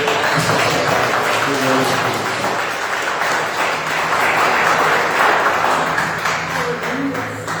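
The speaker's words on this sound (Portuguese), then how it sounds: "Você pode dar uma salva de palmas ao Senhor" A church congregation at a worship service gives a round of applause to the Lord, a continuous wash of clapping filling the room for several seconds, with voices mixed in.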